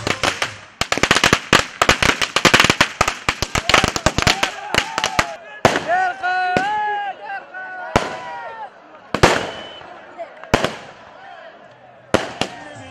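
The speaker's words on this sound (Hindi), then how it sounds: "आतिशबाजी का मुजाहिरा किया।" A rapid barrage of sharp firework bangs and crackles at an election victory celebration in Peshawar, dense at first then thinning to scattered loud pops, with crowd voices and whistling underneath.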